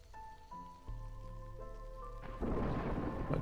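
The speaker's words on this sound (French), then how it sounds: "mais ça va bientôt être la tempête" Thunder rumbles and rain pours in the colony-building game Against the Storm, a low roll of thunder swelling into a loud, dense hiss of heavy rainfall over soft game music.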